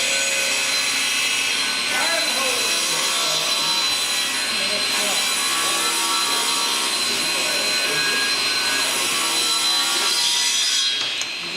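A wood planer feeding boat lumber for a skiff build, a loud continuous whining roar of the cutterhead biting into the board, steady and close from start to finish, with voices talking briefly under the noise.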